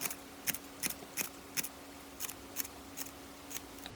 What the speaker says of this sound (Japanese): 今度は3分の1残したところ、こっちの方にもだいたい5ミリ程度の切れ込みを入れます